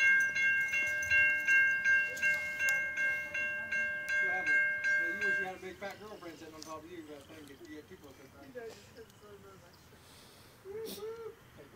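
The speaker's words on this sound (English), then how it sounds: "Look at that train." A CSX freight train's sustained multi-tone horn sounds close by in Effingham, Illinois, then gives way to the rumble of rail cars rolling past while people talk over it.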